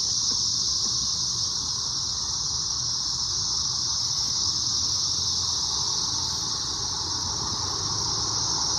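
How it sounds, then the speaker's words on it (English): A steady, high-pitched electric drone of cicadas in woods fills the air continuously, loud and unbroken, with faint low rumble beneath. "here's the sound of cicadas in these woods now"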